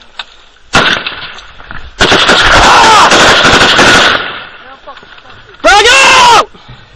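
Heavy gunfire in a firefight, with long loud bursts of rapid shots broken by short gaps, close and intense, while people shout over it.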